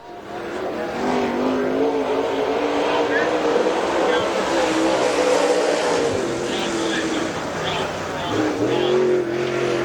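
Number 28 race car driven by Bob Johnson of Loganville, Georgia, lapping Dixie Speedway with a steady, loud engine drone that rises and falls slightly through the corners, with a voice talking over it.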